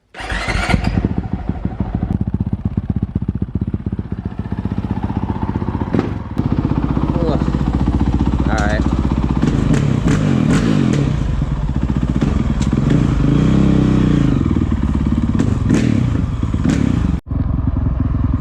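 A Honda CRF450L motorcycle with a tuned engine fires up from fully cold and keeps running, a loud steady rough idle with clattering mechanical noise and a few sharp pops, close by with no talk.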